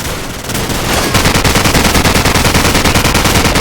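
Sustained machine gun fire in Call of Duty 4: Modern Warfare hammers out a rapid, steady stream of loud shots that builds after a brief lead-in.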